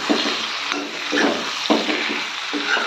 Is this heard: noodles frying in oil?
yes